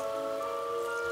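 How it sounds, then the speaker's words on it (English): Cartoon rainfall plays as a steady, even wash of falling rain layered over sustained tonal notes, continuous and moderately quiet for the whole moment. "Oh no! It's raining!"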